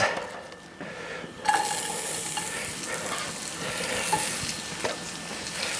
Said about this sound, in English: And now in that same skillet, I'm going to put the shallot.